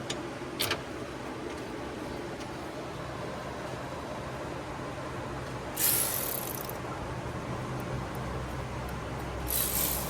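A ratchet tightens bolts on electric cooling fans in a GMT800 truck, with faint clicking over steady background noise and two brighter bursts of ratcheting.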